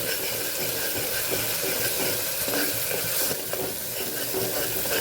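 Onions sautéing in oil until brown, being cooked for Vadodara-style sev usal: a steady, close sizzle and crackle of frying that holds level throughout, with occasional soft stirring scrapes.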